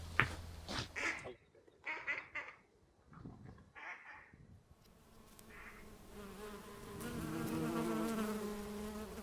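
Honeybees buzz steadily, a close, droning hum of many wings that swells louder toward the end, with scattered clicks and rustles early on.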